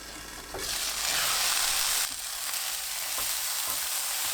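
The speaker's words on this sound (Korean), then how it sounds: "고구마 넣고 30초 볶아주세요." Sweet potato and garlic stir-frying in a hot pan over high heat: a steady, loud sizzle and crackle that swells after a quiet start and holds throughout, with a few faint scraping stirs.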